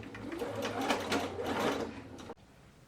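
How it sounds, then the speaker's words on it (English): A sewing machine stitches over the hem of a peasant top in a steady, close whirring run that stops abruptly near the end, leaving quiet room tone. "we can just stitch over it on the sewing machine again"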